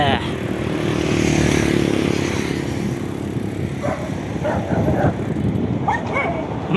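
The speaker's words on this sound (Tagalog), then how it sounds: "May aso." A dog barking by the roadside during a motorcycle ride on the Cavite Loop, several short barks and yips over the steady rumble of the engine and wind.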